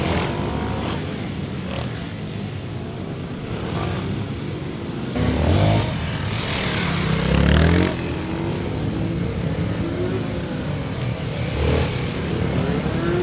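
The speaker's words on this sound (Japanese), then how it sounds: "タイムの違いを見るために同じタイムアタックコースをまずはバイアスタイヤで走ってみた。" Motorcycle running a time attack course on bias-ply tires, its engine droning steadily with rises in revving and a couple of louder accelerating surges, heard alone without talk.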